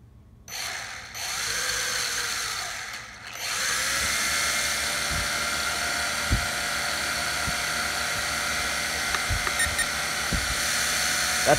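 Steady, loud high-pitched motor whine from a Syma X8G quadcopter idling, a constant buzzing drone, continuous throughout with a few faint clicks and knocks underneath.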